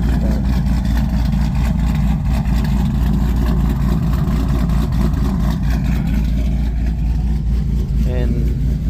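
A lowered SRT8 car idles with a loud, deep, steady engine rumble that holds throughout at close range while someone talks over it.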